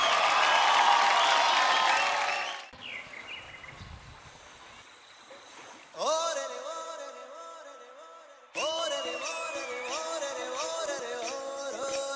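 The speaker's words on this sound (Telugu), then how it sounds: "అందరూ గట్టిగా చప్పట్లు కొట్టి వారిని ఆహ్వానించేద్దాం" An audience at a school event claps and cheers to welcome a farmer-themed performance by sixth-class boys, loud for about two seconds before fading as music begins.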